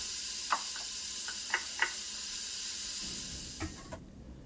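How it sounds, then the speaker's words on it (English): Diced onions hitting hot butter in a pot for mushroom and squash risotto, giving a steady sizzling hiss with scattered light ticks and crackles that drops away suddenly near the end. "And to that butter, add your diced onions."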